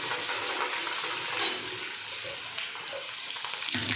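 Garlic and cumin hit hot oil with mustard seeds already popping, giving a steady, close hiss of frying with small crackles and a brief louder flare partway through.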